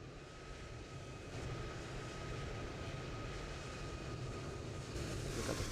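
A landing aircraft in Microsoft Flight Simulator 2020 gives off a steady, fairly quiet engine drone that swells slightly and holds evenly to the end, with no voices.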